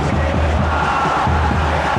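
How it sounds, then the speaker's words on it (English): Stadium crowd noise from a PES 2021 football match between Indonesia and Algeria, a dense, steady roar of massed voices calling out, close and loud throughout. "The crowd are calling for this to be put to bed."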